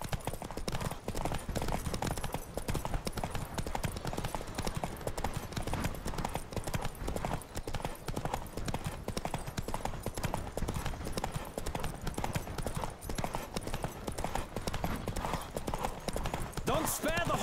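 Horse hooves gallop in a race in the video game The Witcher 3, a rapid, continuous clip-clop rhythm close by, with voices shouting over it throughout.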